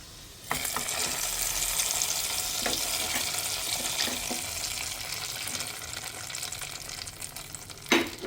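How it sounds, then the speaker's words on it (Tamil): Raisins fried in hot fat until they puff up, for a festival sweet pongal, a steady close crackling sizzle that starts suddenly, with a few light stirring knocks and a louder clatter near the end. "இதுலேயே நம்மளோட ட்ரை கிரேப்ஸ் போட்டுக்கலாம். அது புஷ்ஷுன்னு வர வரைக்கும் வறுத்துக்கலாம்."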